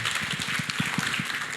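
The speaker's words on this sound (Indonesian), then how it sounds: "Tepuk tangan untuk Pak Andreas ya." A roomful of people applaud Pak Andreas at a church fellowship meeting after a talk on health and nutrition, a steady, fairly loud clapping with a faint rhythmic thump underneath.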